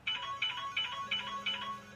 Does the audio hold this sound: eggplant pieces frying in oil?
no